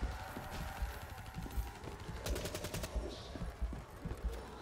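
Rapid gunfire from an unlimited-ammo gun in a first-person arcade shooter game, a continuous stuttering burst of shots with brief louder bursts, moderately loud and steady throughout.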